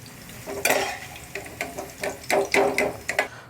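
Bitter gourd frying softly in oil in a pan over a medium gas flame, with a low sizzle and a series of close, rhythmic scraping stirs and light utensil clinks.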